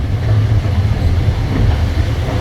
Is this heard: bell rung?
no